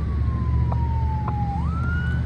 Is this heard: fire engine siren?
yes